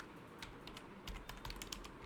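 Quiet computer keyboard typing, a short run of soft, irregular key clicks over faint room hiss.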